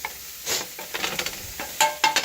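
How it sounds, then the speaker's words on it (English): Mushroom burger sizzles in a hot pan with bursts of crackling and scraping as it is stirred, close and moderately loud. "you hear that sizzle?"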